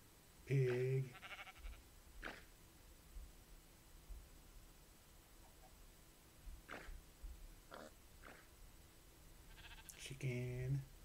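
Sheep bleating in the Minecraft video game, with two clear wavering bleats near the start and end and faint background noise between them.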